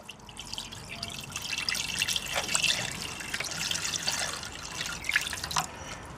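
Water runs and trickles steadily into a container during the restoration of a Peugeot 102 moped, with small drips and splashes over a continuous liquid hiss.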